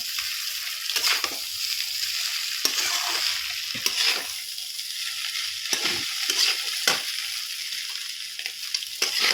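Bengali-style chow mein being stirred with chilli sauce in a pan over lowered heat, giving repeated close scraping strokes with bright sizzling hiss and brief pauses between strokes.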